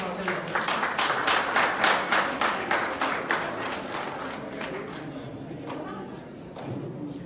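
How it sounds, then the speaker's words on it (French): Audience applause for a regional director of the UPA being introduced at a banking product launch in Senegal, a loud burst of rhythmic clapping that gradually thins out, with a little talk underneath. "Sous vos applaudissements."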